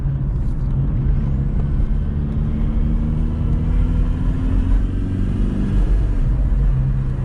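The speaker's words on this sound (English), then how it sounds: "Hear that turbo spool" A 2003 VW Jetta TDI wagon, a mostly stock diesel in good condition, drones steadily from the driver's seat while its turbo spools up in a rising whine over the engine rumble.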